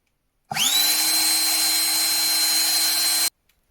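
An Einhell CE-AP 18 Li cordless air pump runs at idle with no load, a steady high whine with airy hiss that starts abruptly, holds an even pitch for about three seconds, then cuts off cleanly.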